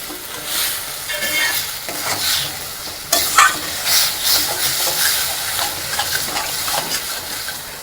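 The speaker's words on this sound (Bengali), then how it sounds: "স্বাদ মতো লঙ্কা গুঁড়ো দিলাম। এবার এটাকে আমি কষিয়ে নেব।" Spiced fish with chili powder being sautéed in a pan over a gas flame, with a loud, steady sizzle and repeated stirring and scraping, close up throughout.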